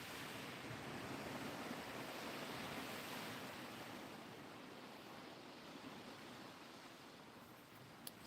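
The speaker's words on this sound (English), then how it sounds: "As we listen to the sound of the waves" Steady ocean waves washing onto the shore during a sea fishing outing, a continuous broad rushing wash with little variation, heard alone with no voices.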